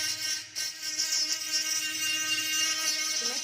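High-speed dental bur whining steadily as it widens the fracture line in an acrylic complete denture during repair, a close, continuous thin drone with slight pitch wavering.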